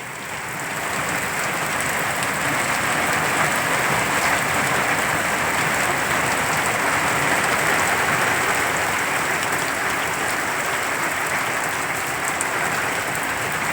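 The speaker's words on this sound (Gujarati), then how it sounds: "ગેર ગામડા વિસ્તારમાં અનેક જગ્યાએ વરસાદનો માહોલ છે અત્યારે અને ફફડાટી બોલે છે વરસાદની" Rain falls steadily over a village area near Dhari in Amreli, a broad, even rushing patter like distant applause that swells in after the first second and holds at a constant loud level with no voices.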